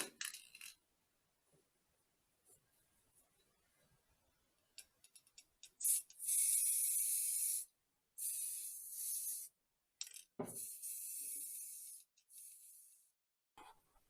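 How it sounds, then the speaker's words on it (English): Aerosol can spraying gray paint over sealant on a Sears Gamefisher 12 boat part: several bursts of bright hissing spray, each lasting a second or two, close by and separated by short pauses and small clicks. "so I'm going to spray paint it gray."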